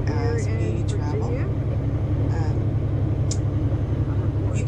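A loud over-the-road truck cab drone fills the space while driving through Virginia, a steady low engine rumble and road roar that never lets up, with someone speaking over it close to the microphone.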